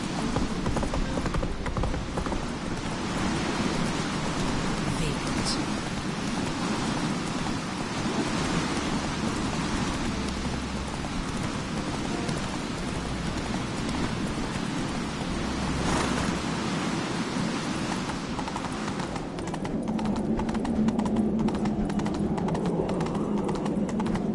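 Horse hooves clip-clop steadily through The Witcher 3 video game world, the rhythmic footfalls carried under a constant rain-like wash of ambient noise.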